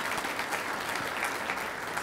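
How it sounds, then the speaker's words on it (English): Audience at a civic event gives a speaker another round of applause, a steady, fairly faint wash of many hands clapping that runs evenly for about two seconds. "Let's give her another round of applause."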